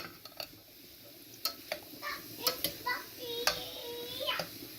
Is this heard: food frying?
yes